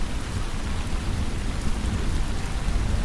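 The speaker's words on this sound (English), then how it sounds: "The rain began to pour and pour and pour." Heavy rain pouring steadily as a dense, even wash of noise, with a low rumble of thunder woven through; no voices, constant and enveloping throughout.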